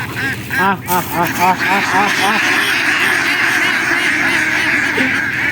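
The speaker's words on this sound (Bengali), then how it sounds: "দেখেন কত হাঁস মানে হাজার হাজার হাঁস" A dense chorus of thousands of ducks quacking loudly and continuously, overlapping calls close by, with a voice partly audible among them.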